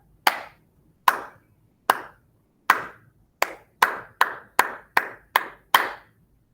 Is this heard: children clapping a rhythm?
yes